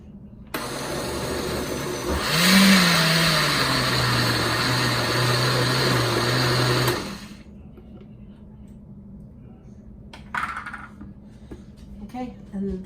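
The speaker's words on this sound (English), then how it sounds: "just a couple of minutes on the blender, not a ton of time to really pulverize it" A loud blender purees roasted tomato sauce, whirring steadily for several seconds with its motor pitch shifting, then cuts off, leaving faint clinks and quiet handling noises.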